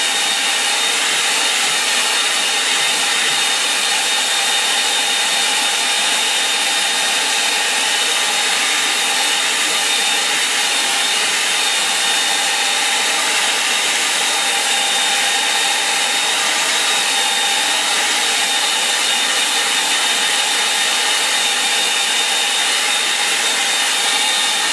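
Hair dryer blowing steadily over a watercolour painting of the Cornish coast, a loud, constant whirring rush with a fixed motor whine that runs unbroken throughout, no talk.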